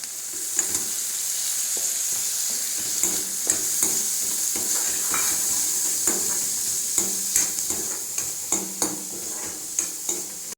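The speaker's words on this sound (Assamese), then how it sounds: "পিঁয়াজখিনি ভাজি লৈছোঁ আৰু ইয়াত কাটি থোৱা ভেজিটেবলছখিনি দি দিম" Onions and chopped vegetables stir-fry in a hot pan for a chicken curry and momo meal, giving a steady close sizzle broken by repeated scraping and clinking stirring strokes, with no talk.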